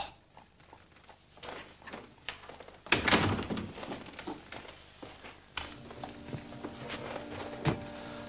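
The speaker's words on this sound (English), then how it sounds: "Close the door." A door being closed in a period room: a few light knocks and rustles, then a solid thunk as it shuts, followed by faint footsteps and a low steady hum of room tone.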